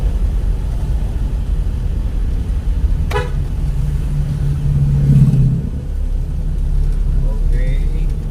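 Morning road traffic in Iligan City: a steady rumble of passing vehicles with a short car horn toot midway and a faint engine rev, moderately close, under light background voices.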